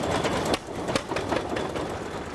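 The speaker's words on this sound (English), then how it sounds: "They're called flywheel engines, the name coming from the heavy flywheels that make them run." Antique flywheel farm engines running at a show, with a loud, rhythmic chugging and irregular repeating pulses from several machines close by.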